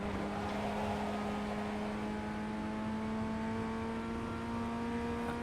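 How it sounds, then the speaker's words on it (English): FF1600 race car engine in the iRacing sim revving steadily at high pitch on the Charlotte Legends long track, a constant droning tone with no talking. "and we're just revving it out here"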